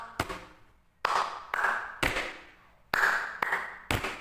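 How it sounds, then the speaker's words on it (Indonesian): Sharp, separate hand claps and table taps beaten out as a simple rhythm, about seven distinct hits in an uneven pattern, close and fairly loud, with short decays between them. "untuk membuat irama juga bisa dibuat menggunakan tepuk tangan dan memukul meja"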